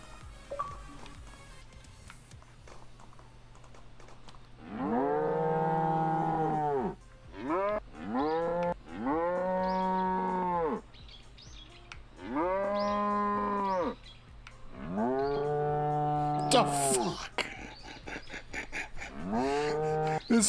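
Cows in the Deeeer Simulator video game let out a series of long, loud, drawn-out moos, about five separate calls in close succession, with little else around them.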